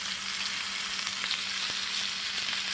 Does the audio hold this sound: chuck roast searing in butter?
yes